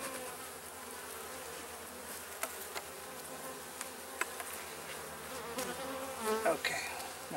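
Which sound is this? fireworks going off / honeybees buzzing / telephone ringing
honeybees buzzing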